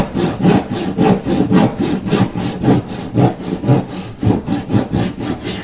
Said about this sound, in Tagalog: tuloy ating lagari